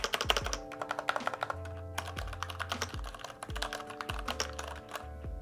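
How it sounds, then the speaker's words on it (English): Keystrokes on a mechanical keyboard with Cherry MX Red switches, a close run of quick clacks with deeper thocks from bottoming out and the occasional heavier key, clear and steady with no talking. "For the keys, I went with the Cherry MX Reds, which sound like this."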